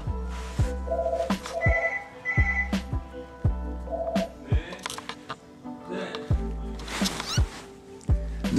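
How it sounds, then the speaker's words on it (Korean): A telephone rings late at night in a room, short electronic tone bursts repeating in a regular pattern over rhythmic background beats, fairly close and clear. "전화 온다."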